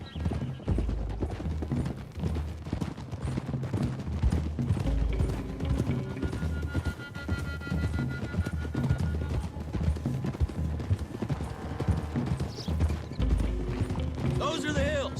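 Horse hooves clip-clop steadily along a road in the Red Dead Redemption 2 video game, a close, continuous rhythm running under game music and dialogue, with a brief whinny near the end.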